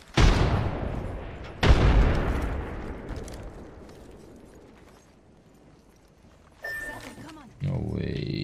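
A frag grenade blast in Apex Legends on the Broken Moon map: two loud booms in quick succession with long rumbling decay, followed later by other game effects and sounds.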